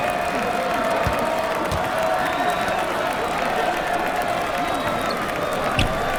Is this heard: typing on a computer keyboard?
no